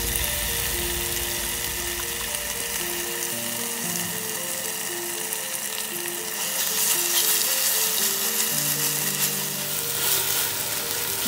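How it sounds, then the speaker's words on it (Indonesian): Chili frying in hot oil in a pan for goat trotter curry, a steady close sizzle and crackle that carries on throughout and grows brighter and louder in the last few seconds. "Tumis sampai si cabenya ini hilang langunya ya"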